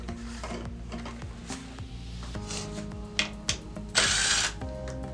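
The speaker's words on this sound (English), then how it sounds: "I like to use my drill strictly to loosen these." A power drill loosens Phillips screws on a Caretaker 5-port pool valve, whirring in several short bursts with pitch sweeping up and down as each screw turns, then ending in a few clicks and a louder final spin, close and alone.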